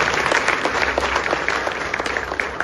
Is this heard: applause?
yes